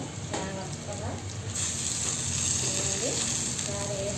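Cabbage pakodi fritters frying in hot oil, a steady close sizzle with soft crackling and bubbling throughout, growing slightly brighter partway through, with faint spoon stirring.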